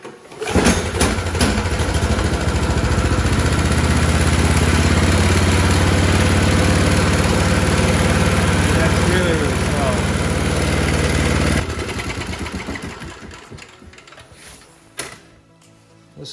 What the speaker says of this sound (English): I'll start it up there,